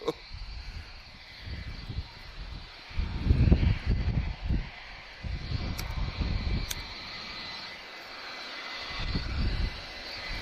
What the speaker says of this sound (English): And we have an EasyJet A320. Our last arrival for today.